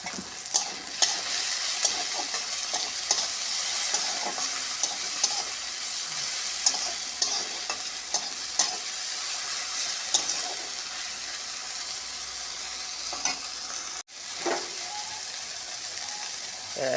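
Spices fry in a pan with turmeric, cumin powder and salt, a continuous crackling sizzle broken by frequent scraping stirs, with a brief sharp knock near the end.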